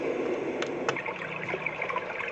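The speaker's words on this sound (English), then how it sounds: "There's ocean," Ocean nature-sound setting on a Homedics alarm clock: a steady, soft wash of water-like noise plays continuously, with a couple of brief brighter splashes near the start, fairly faint and without any voices.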